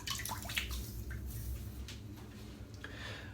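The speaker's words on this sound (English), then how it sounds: "I'm just going to wet my head." Running water splashing as a head is wetted before a shave, a steady close trickle and splash with small drips and no talking.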